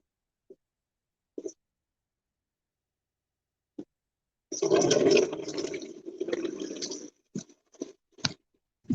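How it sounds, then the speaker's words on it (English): Spring water splashing and gurgling into a small container in short bursts, with a longer sloshing pour in the middle and scattered drips around it, close and quiet otherwise. "you can see the spring water doesn't pour into it super fast"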